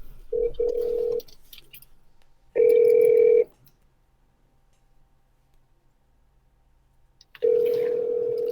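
A phone call rings out while trying to reach a voicemail, with long, loud ringback tones, three separated by stretches of near silence and faint background noise.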